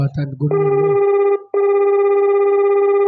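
A telephone rings in a Telugu audio story: a loud, steady electronic ring tone in two long bursts with a short gap, after brief voice sounds at the start.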